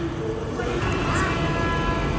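An elevated Hyderabad metro train draws into a station platform, with a steady loud rolling rumble and hiss that swell slightly as it nears.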